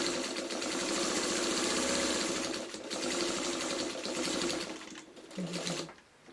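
Sewing machine stitching in the ditch while quilting a small pot holder, a steady rapid whir running close and loud for most of the stretch, then slowing and stopping near the end.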